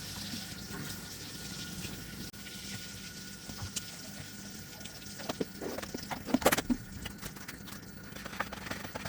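Water trickles and splashes as a car battery with fully dried-out cells, two years old and weak, is refilled. The flow is steady and close, with a few louder bursts toward the end and no talk over it.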